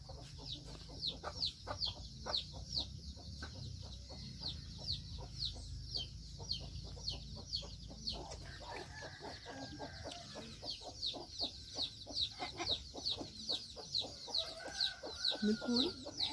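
Hens cluck steadily in Senaru, a traditional village on Lombok. The calls are dense, rhythmic and fairly close, repeating throughout and growing a little louder near the end, with faint voices now and then in the background.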